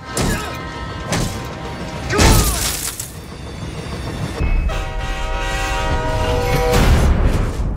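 A loud train horn blares in a Need for Speed: The Run race, with rumbling rail noise and a heavy crash burst near the start, followed by sustained horn tones and rolling train clatter.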